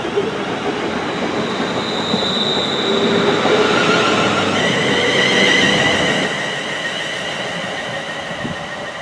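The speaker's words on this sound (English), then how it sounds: "catch that train right there and get off at Rugeley Town Station" Merseyrail electric train at a station platform on the Wirral Line, heard close and loud as a steady rumble with rising and falling motor whine and faint wheel squeal, with no voices.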